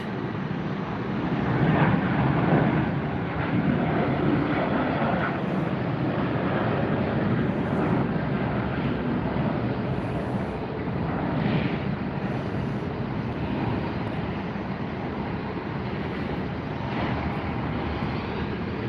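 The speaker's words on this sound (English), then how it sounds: "Next up after this Southwest takes off, we have an American in line for takeoff." A Southwest airplane taking off at Tampa airport gives a continuous broad engine roar from a distance, steady throughout with wind noise.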